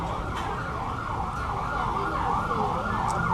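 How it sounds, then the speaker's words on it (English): A wailing ambulance siren rising and falling repeatedly over road noise, fairly close and continuous. "That's an ambulance."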